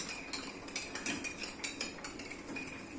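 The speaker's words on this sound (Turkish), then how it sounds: "Karıştırıyoruz." A spoon stirs homemade lemonade in a glass or jug, giving a quick run of light metallic clinks and taps close up, with no talking.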